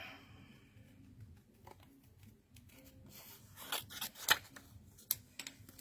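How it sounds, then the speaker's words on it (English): Scissors cut paper shapes for a craft project, giving soft, quiet snips and rustling paper, with crisper clustered cuts toward the end. "we're going to cut these out"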